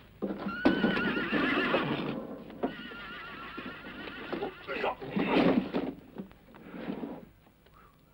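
Horses neigh and whinny repeatedly at close range while hooves clip-clop, with a few knocks and rattles of harness or wagon mixed in and some scattered voices around them.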